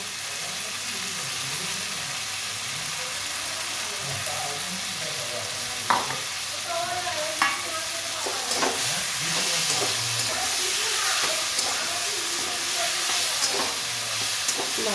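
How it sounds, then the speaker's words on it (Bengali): A poppy-seed and mustard paste sizzles and fries in a pan with spices, a constant close hiss of hot oil broken by scraping stirs and occasional clinks of the spatula, with no talking. "ভালো করে কষে নেব"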